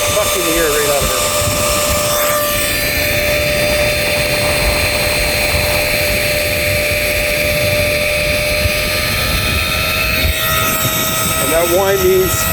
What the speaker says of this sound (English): as you can see, it's sucking the air right out of it.